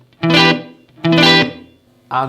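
Two sustained guitar chords played through a Black Country Customs Secret Path reverb pedal on a hall setting ring out, each trailing into a spacious, lingering reverb tail, followed by the start of a third chord.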